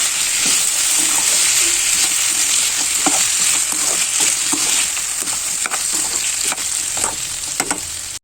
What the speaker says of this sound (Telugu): ఇప్పుడు దీన్ని మధ్య మధ్యలో కలుపుతూ మీడియం ఫ్లేమ్ పైన ఫ్రై కానివ్వాలండి